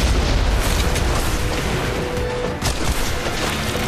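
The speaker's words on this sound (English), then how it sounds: "And aim is of no concern with a thermobaric rocket launcher. A single shot can take out an entire four-story complex" A thermobaric rocket launcher blast in Red Faction: Guerrilla brings down a four-story complex, and the explosion fills the clip with a loud, continuous roar and rumble of collapsing structure, broken by one brief dip.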